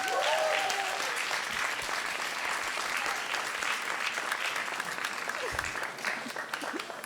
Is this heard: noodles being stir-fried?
no